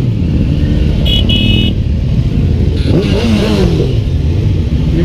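Car horns honk in short bursts during a vehicle parade, sounding over steady loud engine rumble and revving from passing cars, with no talk.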